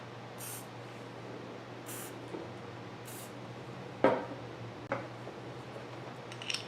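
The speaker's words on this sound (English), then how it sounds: "I'm going to just spray a little bit more in there." Spray lubricant is blasted into the slides of a wood lathe chuck in three short hissing bursts, followed by a few faint metallic clicks and taps in a quiet workshop.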